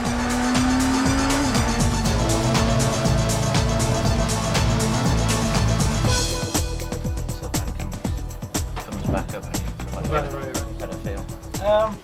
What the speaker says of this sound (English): exhibits some pretty smart hand and footwork as he takes the Vectra to the limit